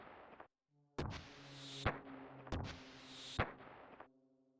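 Fireworks burst in the Chrono Cross video game, several sharp cracking explosions with crackling tails set against soft synthesized music, then fading to quiet tones.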